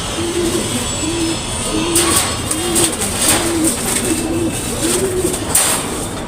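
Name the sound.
pigeons cooing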